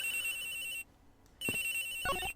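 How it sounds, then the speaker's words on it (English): Electronic phone ringtone in the video game Ace Attorney Investigations, two bright trilling rings split by a short pause, clear and alone. "The ringing's coming from somewhere in here, sir"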